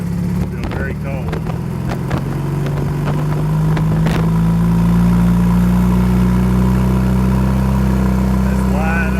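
Suzuki Burgman 650 scooter engine running steadily with a skipping misfire from a suspected fouled spark plug, a loud continuous hum rising slightly in pitch partway through, with a few sharp clicks early on and no talking.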